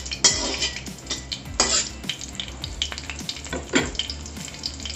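Chillies fry in hot oil with cumin in a pan, a crackling sizzle with repeated sharp spattering bursts and stirring clatter, fairly close and uneven.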